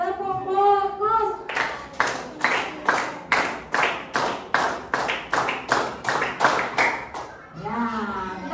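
A class of children performs 'tepuk fokus' rhythmic clapping in a classroom: about a dozen sharp, evenly spaced claps in a steady beat, with children's voices chanting before and after.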